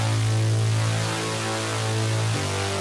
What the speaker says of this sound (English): you want a sawy, gritty bass like this